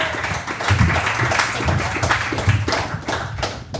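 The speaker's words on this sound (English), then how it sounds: "Give a big round of applause for Jessica Lovelace Chandler, everybody." Clapping from a comedy show audience welcoming a comedian guest, a few seconds of close, brisk, uneven hand claps with sharp taps, fairly loud and without talk.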